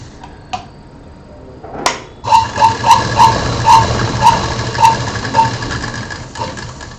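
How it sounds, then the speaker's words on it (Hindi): A sewing machine runs while it stitches a quilt. After a few clicks it starts up and rattles along in a steady, close whir with rhythmic pulses, then slows toward the end. There is no talking. "अब इसको हमें यहाँ से यहाँ सिलाई करनी है,"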